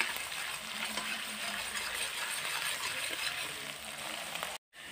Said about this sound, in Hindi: प्याज को चलाते हुए भून लेंगे और इसी के साथ डालेंगे 2 कटी हुई हरी मिर्ची